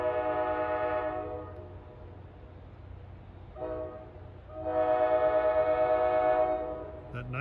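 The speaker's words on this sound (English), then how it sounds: "That nice unrestricted K5LA is heralding the approach of train 1213, Hoboken to Waldwick" An unrestricted K5LA horn on NJ Transit train 1213 sounds two long chord blasts, the second louder, with a short tap between them, ringing out over low rumbling as the train approaches on the line.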